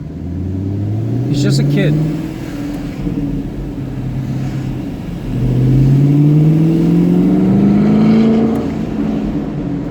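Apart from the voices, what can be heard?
neighbor's four-wheeler ATV engine revving past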